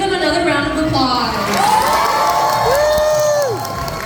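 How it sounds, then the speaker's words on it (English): Convention crowd at the CarrierCon 2024 cosplay contest cheering and applauding the winners, a loud sustained wash of claps, whoops and shouts with some voices mixed in. "Let's give them another round of applause."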